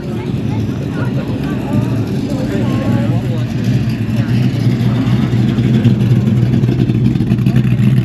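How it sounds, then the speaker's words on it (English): A Ford Mustang at a car show, its engine giving a loud, continuous low rumble that swells slightly over several seconds amid outdoor crowd noise. "Here comes my favourite, the Mustang."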